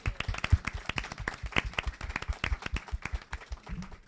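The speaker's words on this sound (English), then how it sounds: "Let's give them another round of applause." Applause from a modest audience at a ceremony honoring Arab American women: scattered, distinct handclaps with uneven rhythm, near and moderately loud, thinning toward the end.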